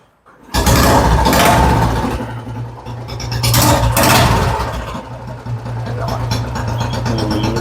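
Royal Enfield motorcycle engine cranks and catches after a brief pause, then settles into a loud, close, steady running thump with slight revving, while voices talk faintly nearby.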